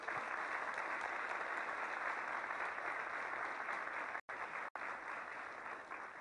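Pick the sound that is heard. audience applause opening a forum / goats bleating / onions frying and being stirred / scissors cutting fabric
audience applause opening a forum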